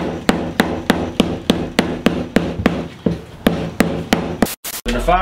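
A hammer pounds a ball of aluminium foil at a steady rhythm, about a dozen close, solid blows, followed by a short burst of rustling at the end.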